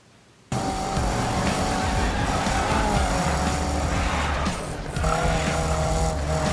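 Race cars roar and tires squeal in a Frostbite-engine car video game demo, loud and continuous engine noise starting abruptly after a brief near-silent opening, with a short dip near the end before the roar resumes.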